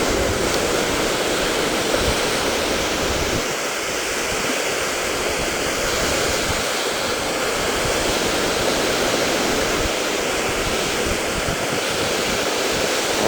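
Ocean surf rolling onto a Hawaii beach, a steady broadband wash of breaking waves that stays loud and close throughout with no talking.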